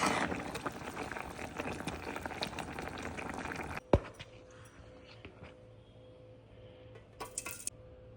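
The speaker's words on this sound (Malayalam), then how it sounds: "പരിപ്പ് ഇവിടെ വേവാൻ വെച്ചിട്ടുണ്ട്" Chana dal (split chickpeas) boils in a pot for payasam, giving a dense bubbling and gurgling for about four seconds before cutting to a quiet room hum with a few faint clinks.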